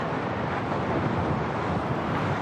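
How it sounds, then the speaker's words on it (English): Hurricane-force gusts near 72 mph whip the water at Coot Lake in Boulder County, a loud, steady roar of wind buffeting the microphone with no letup. "Today, a very dangerous situation with this water just being whipped around by this wind."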